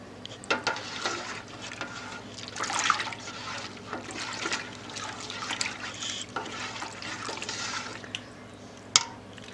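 Homemade liquid laundry detergent with Fels Naptha soap being stirred at a farm, producing soft sloshing and trickling liquid with scattered knocks of the utensil against the container, close and moderately quiet, with no talk.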